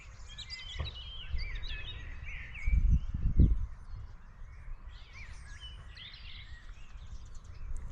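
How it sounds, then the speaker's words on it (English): Faint birdsong drifts from the distance over a medieval village site in Carlton, with scattered chirps and warbles over a steady outdoor hush and a brief low rumble partway through. "Can you just hear the birds in the distance?"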